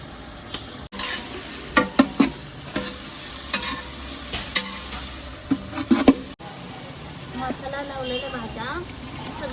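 Finely chopped onion and tomato frying in a large pot for a big batch of veg biryani, a steady sizzle with scraping stir strokes and clanks, while someone talks over it.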